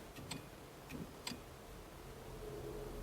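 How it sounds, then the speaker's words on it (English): The relay on a BMW N54 335i clicks three times, quick and faint, while it primes a second Walbro fuel pump added for port injection, over a steady low background hiss. "The relay clicks."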